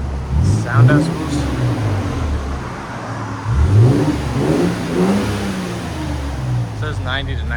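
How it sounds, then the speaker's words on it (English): A 3.4L V6 2022 Toyota Tundra fitted with a Borla ProXS exhaust idles with a low rumble, then blips its throttle several times in quick rising revs, loud and close. "2022 Toyota Tundra with the Borla ProXS."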